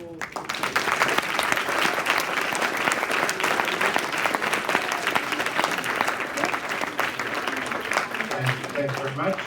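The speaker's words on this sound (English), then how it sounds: "Can we get a round of applause?" An audience at a university Q&A event applauds loudly and continuously, dense clapping filling the hall, with a voice beginning to speak near the end.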